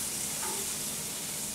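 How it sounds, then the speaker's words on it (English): Fat renders in a frying pan for pasta carbonara, giving a steady, close, unbroken sizzle and crackle with no talking over it. "The last ingredient is all of this fat, this base that we are developing in the frying pan here."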